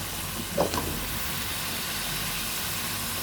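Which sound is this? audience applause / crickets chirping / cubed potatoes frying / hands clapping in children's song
cubed potatoes frying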